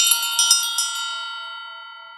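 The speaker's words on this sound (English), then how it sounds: "I'm going to go ahead and actually ring the bell to clear out any energies" A bell is struck several times in quick succession, each strike bright and metallic, then left to ring out and fade slowly into silence.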